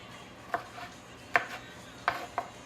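A ceramic knife chops through soft vegetables on a cutting board at home, giving four distinct sharp cuts spaced irregularly over a quiet kitchen background.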